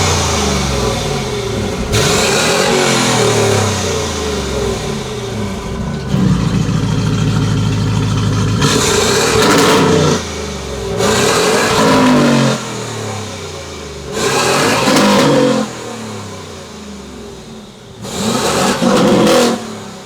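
A TechArt-tuned Porsche Cayenne Turbo GT revs loudly in repeated bursts, with sharp throttle blips separated by deep idling stretches, close to the car.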